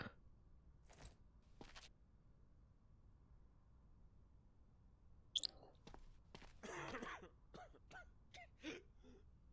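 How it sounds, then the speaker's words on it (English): A cough sound effect from a video game plays in quick bursts: brief harsh throat-clearing coughs sound twice early, then a cluster of sharper coughs and rasps follows after a quiet pause. "And a cough."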